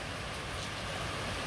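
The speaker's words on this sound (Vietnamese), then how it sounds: "Trời đang mưa, Hà Nội đang mưa." Rain falls steadily in Hanoi at midday, an even, close hiss of rain on surfaces with no voices.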